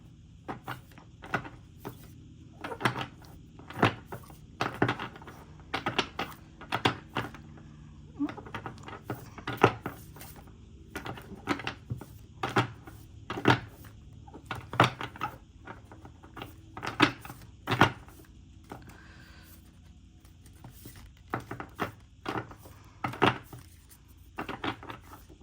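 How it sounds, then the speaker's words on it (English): Large tarot cards being shuffled by hand, a series of crisp riffling snaps and taps in irregular bursts, fairly quiet, with no talk. "I've never shuffled these on camera before"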